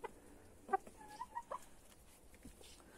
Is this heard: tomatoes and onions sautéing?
no